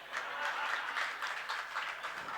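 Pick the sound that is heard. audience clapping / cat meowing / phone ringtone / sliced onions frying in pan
audience clapping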